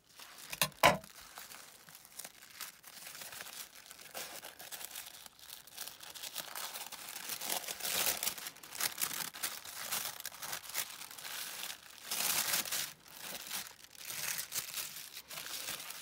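Thin purple tissue paper crinkles and rustles up close for a long stretch as it is unwrapped, with soft crackling bursts rising and falling as it is handled.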